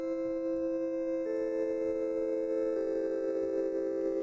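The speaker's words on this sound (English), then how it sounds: "he released this plugin that emulates a tape recorder" A synth melody runs through a tape recorder emulation plugin, sustained tones that step in pitch twice and carry a faint hiss and a little warble, steady and alone with no voices.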